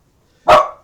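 A single sharp, loud bark from a dog barking at its own reflection in a glass pane, a short burst with a quick fade and no other sound around it.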